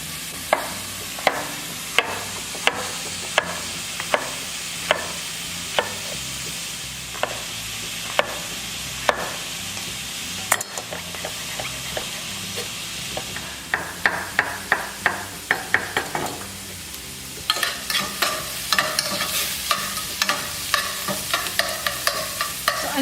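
Onions fry in a pan toward golden brown, a steady sizzle under repeated sharp clacks of a utensil stirring against the pan, spaced at first and then coming in fast, dense bursts.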